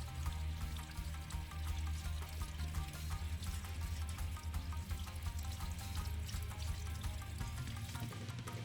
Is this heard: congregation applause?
no